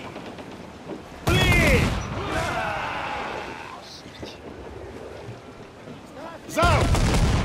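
Ship cannons firing in the naval combat of Assassin's Creed IV: Black Flag, with two loud broadband blasts about five seconds apart and rumbling, creaking battle noise between them while someone shouts over it.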